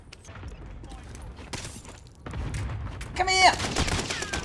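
Gunfire in a video game, with bursts of rapid shots and ricochet-like pings that grow louder toward the end, as someone shouts over the fight.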